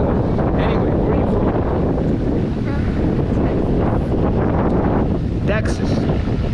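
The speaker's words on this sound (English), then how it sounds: "The waves and the wind may make this sound not so loud" Steady roar of wind and breaking sea waves at the shore, loud and continuous throughout, with wind buffeting the microphone and faint voices mixed in.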